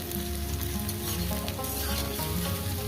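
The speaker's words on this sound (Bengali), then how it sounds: "আলু পেঁয়াজ ঢেঁড়ো সব কিছু ভাজা হয়ে যায়" Potato, onion and okra fry in a pan with a steady, close, loud sizzle that keeps a dense crackling hiss throughout, with no voices.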